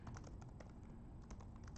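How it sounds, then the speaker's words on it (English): Rapid clicking keystrokes on a computer keyboard as a monthly utility bill figure is entered into a solar savings chatbot, irregular taps close by with no talking. "And we'll actually type it out, right?"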